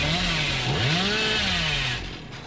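Hillbilly's chainsaw revving in the video game Dead by Daylight, a loud rough buzzing engine note that rises and falls in pitch, close up, then cuts off abruptly near the end.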